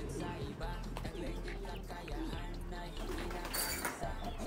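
Several cock pigeons cooing and fluttering as they settle into a new coop, with soft coos and brief chirps over steady background noise and a voice talking throughout.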